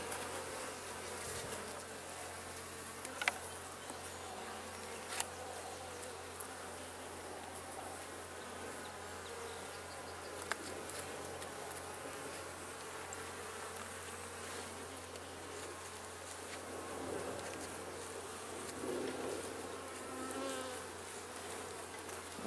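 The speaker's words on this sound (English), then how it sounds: "Very young bees here too, very small." Honeybees buzz steadily around an open hive during an inspection, a soft continuous drone with a few brief knocks and clicks from handling the frames and no voices.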